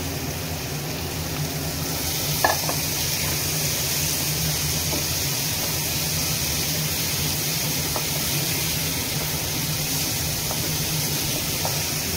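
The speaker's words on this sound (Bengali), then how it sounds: "এবার আমি এই সবজিগুলো এর মধ্যে ঢেলে দিচ্ছি।" Vegetables for a vegetarian paneer bharta sizzle in a pan of frying spices with a little water, a steady, dense hiss that carries on unbroken throughout, with a faint clink early on.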